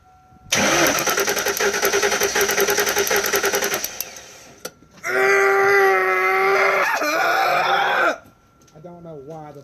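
Ford Mustang engine cranking over on the starter during a compression test on cylinder 4, two loud sustained rhythmic whirring cranking bursts separated by a pause, close to the engine.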